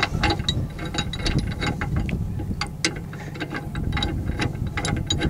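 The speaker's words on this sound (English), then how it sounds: "Put your snatch strap through the shackle and connect it back up." A metal shackle is screwed and tightened onto an ARB snatch strap at an off-road recovery site, giving a run of close, rapid metallic clicks and scrapes over steady background noise.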